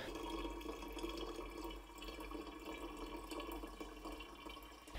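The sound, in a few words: water being poured into laser water tank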